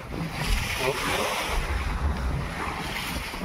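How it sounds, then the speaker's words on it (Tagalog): A strong wind blows at the seaside, buffeting the microphone in a continuous roar mixed with the rush of surf, loud and steady throughout. "Lakas ng hangin kahit mainit."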